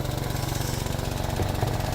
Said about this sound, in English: Exhaust, obviously we can hear it.